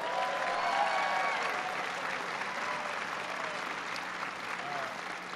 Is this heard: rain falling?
no